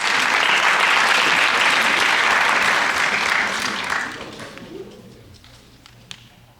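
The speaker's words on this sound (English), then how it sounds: "Let's give him a round of applause." An audience at a 2014 ombudsman graduation ceremony applauds with a dense, loud wash of clapping that holds steady for several seconds, then thins and fades to a few scattered claps.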